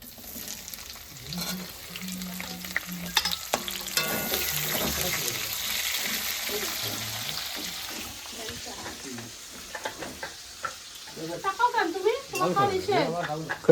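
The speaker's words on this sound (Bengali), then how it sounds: "এবার আমি পেঁয়াজ কুচি দিয়ে দেবো" Chopped onions go into hot oil with whole garam masala and sizzle while being stirred, a close hiss with utensil scrapes, followed by a voice speaking near the end.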